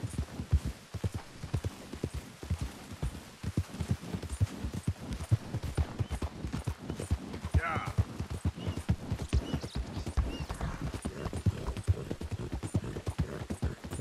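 A war horse gallops in Red Dead Redemption 2, its hooves pounding in a fast, steady rhythm throughout, with a brief whinny partway through and faint ambient hum beneath the running beat.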